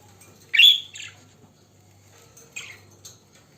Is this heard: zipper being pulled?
no